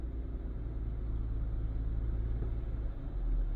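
A Toyota engine idles with the throttle held open, a low steady rumble with a slight swell near the end, heard alone without talk.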